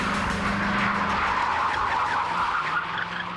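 A stunt car slides across pavement to a stop, with a sustained, loud tire skid that holds steady and then tapers slightly at the end.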